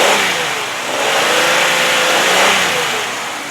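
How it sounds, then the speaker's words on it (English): A 2004 Pontiac Grand Am SE sedan's V6 engine revs up and holds at high revs, then eases back down, loud and close with no voices. "let me rev her up for you. You can hear how good she sounds"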